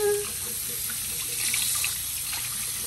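Cold water runs steadily from a tap into a sink, a continuous close splashing hiss with faint trickles and no break across the clip.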